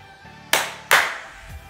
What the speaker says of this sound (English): Can you clap your hands twice if you're not having a great day?